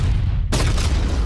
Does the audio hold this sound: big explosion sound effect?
yes